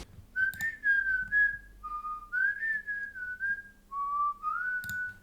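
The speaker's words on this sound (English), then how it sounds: "I realized I was whistling all along. Try to guess the song I was whistling to." A lone person whistles a tune in clear, sustained, wavering notes in short phrases, close and fairly quiet, with faint clicks in the background and no speech.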